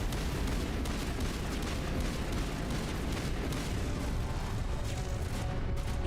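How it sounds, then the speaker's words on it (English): Missiles explode in the game Mass Effect Legendary Edition as a dense, continuous roar of overlapping blasts, loud and heavy throughout. "Those missiles are gonna fucking kill me."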